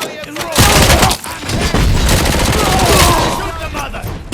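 A loud, nearly continuous barrage of automatic gunfire and impacts fills a firefight in the video game RoboCop: Rogue City, with booming thuds and rattling bursts layered close and dense.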